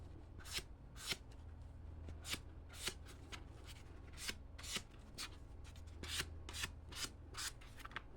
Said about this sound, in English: And then you go with your 600 grit sandpaper.